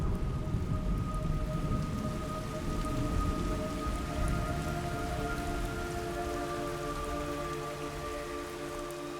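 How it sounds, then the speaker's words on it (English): Steady heavy rain pours in a video game remake, a dense continuous hiss with low rumbling beneath and a few sustained tones over it, loud and unbroken throughout. "It's raining blood."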